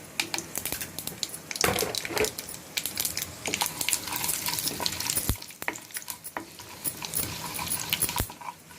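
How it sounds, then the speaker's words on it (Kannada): Mustard seeds with chana dal and urad dal crackle and splutter in hot oil, a dense, continuous sizzle with many sharp pops and some stirring clatter, close and loud with no talking. "ನೋಡಿ ಸಾಸಿವೆ ಚೆನ್ನಾಗಿ ಚಟಪಟ ಅಂತ ಸಿಡಿದಿದೆ."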